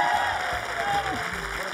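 Studio audience applause and cheering on a late-night comedy talk show, loud clapping running under a host's voice, with a steady tonal hum in the background.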